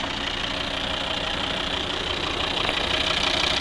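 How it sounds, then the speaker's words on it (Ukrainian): A 2011 Volvo V50 2.0 D3 five-cylinder diesel idles steadily up close, a dense, even engine drone with no voices. "Двигун 2 літри дизель"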